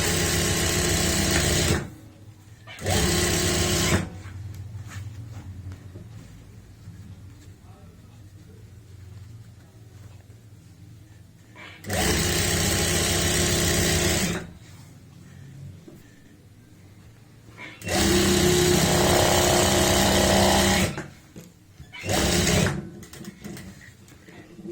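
Sewing machine stitching elastic into the waistband of pants, running in several loud bursts of a few seconds each, separated by quieter pauses while the fabric is handled.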